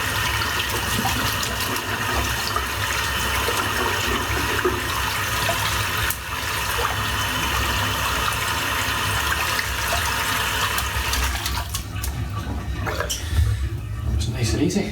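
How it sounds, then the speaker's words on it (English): Tap water runs steadily into a sink as a shaving brush is rinsed, a continuous close hiss and splash with a few knocks and shifts toward the end, while someone talks over it. "Just going to rinse the brush out."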